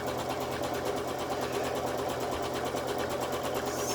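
A Bernette B77/B79 sewing machine running continuously for free motion quilting, a fast, even mechanical needle chatter held at steady speed, close and alone without speech.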